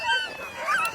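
Sled dogs at a race checkpoint chute give a brief, close high-pitched whine and yip, rising and falling over about a second.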